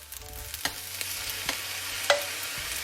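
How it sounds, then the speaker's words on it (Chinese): Pineapple fried rice with shrimp is tossed in a hot wok, a soft sizzle running under repeated spatula scrapes and clinks in an uneven stirring rhythm, close and without talk. "继续翻炒"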